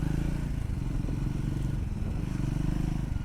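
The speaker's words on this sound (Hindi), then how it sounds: "यहाँ से देखिए मैं टर्न ले रहा हूँ ना, वापस से मैं टर्न लेता हूँ, यू टर्न" A Triumph Scrambler 400X motorcycle idles and putters steadily through a slow U-turn, its low, close engine throb continuous and even without strong revving.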